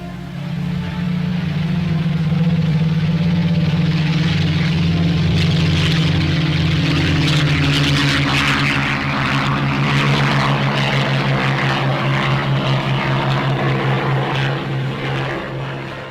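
A propeller plane drones loudly overhead, its deep engine hum steady for the whole stretch with a rough, rising and falling throb.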